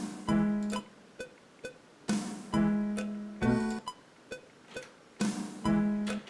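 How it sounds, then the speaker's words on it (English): MIDI-programmed drum flams, each a quick double hit with a softer second stroke, repeat in a loose pattern at moderate loudness, some carrying a short pitched ring, with sharper single ticks between them. "If you want to do a flam, which is 2 hits to create that ba-doom kind of sound like this."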